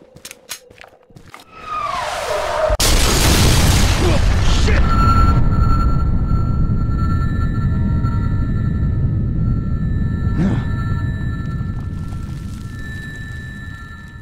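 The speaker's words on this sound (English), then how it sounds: "Serbs appear to be shelling the buildings at random." Mortar shelling in the PC shooter Sniper: Ghost Warrior 2: a heavy, rumbling blast swells in after a brief high whistle and lingers as a loud, sustained roar with distant tonal game sounds layered over it.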